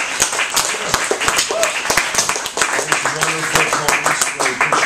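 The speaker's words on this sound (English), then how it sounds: "let's give a warm round of applause to" Audience applause at a found poem recitation event, moderate clapping from a small group filling the room steadily, with voices talking over it.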